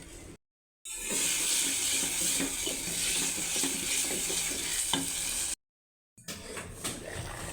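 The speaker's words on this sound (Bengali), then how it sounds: "মুখিগুলো ভালো করে কষিয়ে নিব মশলার সাথে" Taro pieces are stir-fried in hot spiced oil, producing a steady, bright sizzle with stirring scrapes, broken by two short silent gaps.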